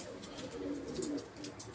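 Pigeons from a long-established breeding loft coo softly, a faint low burbling call with light background noise.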